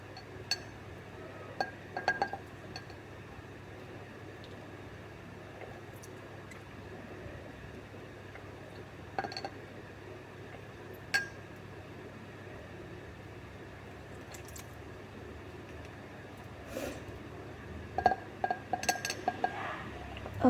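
A spoon clinks against a glass as baking soda is spooned in for a volcano reaction experiment, with sparse light taps scattered across the stretch and a quick cluster near the end, close and faint.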